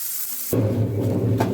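Food hits hot oil in a pan while a Bengali-style begun bhorta is being made, after garlic has been fried. A sudden, steady sizzle starts partway through and stays loud and close.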